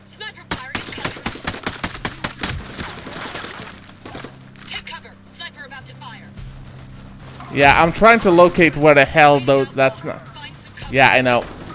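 Rapid gunfire in the tactical shooter Ghost Recon Breakpoint, a quick string of sharp shots at first and then a sparser run, followed by loud voices talking over the action.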